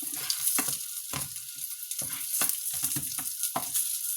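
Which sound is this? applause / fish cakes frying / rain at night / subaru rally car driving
fish cakes frying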